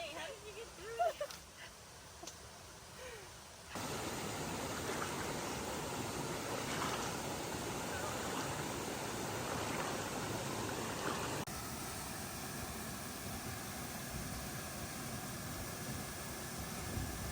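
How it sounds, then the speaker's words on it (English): Waterfalls rushing through a Maui forest, a loud, steady broadband roar of falling water that swells in after a few quieter seconds with brief voices and handling sounds, then continues unbroken. "The waterfalls are so enchanting, and just being here feels like the true definition of a forest bath."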